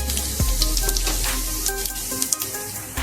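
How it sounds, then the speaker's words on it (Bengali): Cumin seeds hit hot oil for a mutton curry and crackle with a steady, close sizzle and scattered pops that hold throughout. "এবার দিয়ে দেবো জিরে ফোড়ন"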